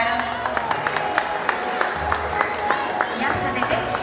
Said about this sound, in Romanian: Aplauze tuturor!